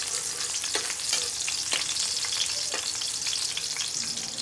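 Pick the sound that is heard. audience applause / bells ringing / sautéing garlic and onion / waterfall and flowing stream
sautéing garlic and onion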